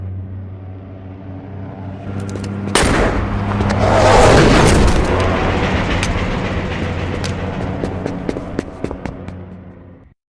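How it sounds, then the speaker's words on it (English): Explosion in a Saints Row video game cutscene, a sudden loud blast followed by a long roaring rumble and scattered crackling debris that gradually fades, with no voices. "That was a hell of an explosion."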